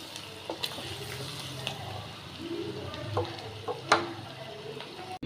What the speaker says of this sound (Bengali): চিংড়ি মাছটা ভাইজা নিতেছি